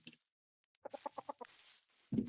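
Chickens in the Minecraft video game cluck in a quick series of about six short, clipped notes, faint and close, followed by a louder rustling burst.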